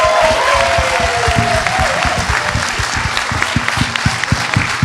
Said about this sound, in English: I want everybody in this motherfucker to clap it up for everyone on the stage.